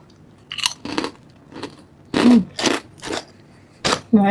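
Crispy ripe jackfruit chips being bitten and chewed close to the mic, a series of sharp crunches in irregular bursts with short pauses, no talking.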